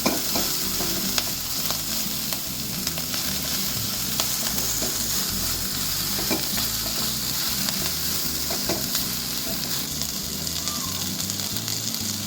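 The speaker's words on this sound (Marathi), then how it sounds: "त्यानंतर शिमला मिरची, जरा परतूया." Capsicum sautéed in a frying pan gives a close, steady sizzle under constant rhythmic scraping and clinking as it is stirred, with the stirring strokes repeating briskly from start to finish.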